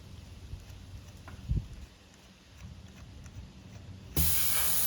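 An automatic tire deflator on a tire valve lets out a sudden loud, steady hiss of escaping air near the end, after quiet handling clicks and a brief thump.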